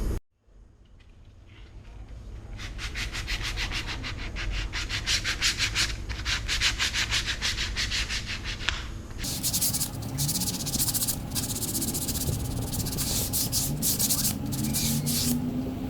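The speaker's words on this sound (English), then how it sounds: "I'm going to be getting 80 grit sandpaper. I'm going to be scuffing down the inside of this plastic piece." Coarse 80 grit sandpaper scuffs the inside of a plastic widebody fender piece for a Charger in rapid back-and-forth rasping strokes, close and steady for the whole stretch, with a change in rhythm partway through.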